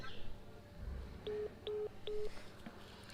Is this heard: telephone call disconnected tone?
yes